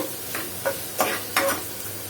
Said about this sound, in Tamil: வெங்காயத்தை வந்து நீங்கள் நல்லா வந்து வதக்கிக்கோங்க